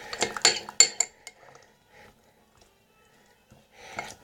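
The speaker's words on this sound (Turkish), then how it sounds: "Karıştırın ve iyice karıştırın." A spoon working through green homemade slime in a dish, a few sharp clinks and scrapes against the dish at first, then quieter sticky movements and a last burst of scraping, close and fairly soft.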